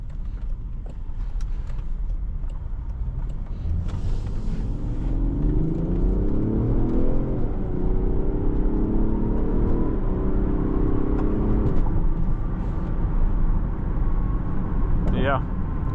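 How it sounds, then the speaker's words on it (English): 2024 Range Rover Sport P400 Dynamic SE engine while driving, a moderate engine drone that climbs in pitch through smooth gear changes under road noise, with a brief higher whine near the end. "It sounds like a nice nice V6, right?"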